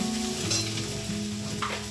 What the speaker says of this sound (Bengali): আর একটুখানি তখন জল অ্যাড করবো মশলাটাকে ভাজার জন্য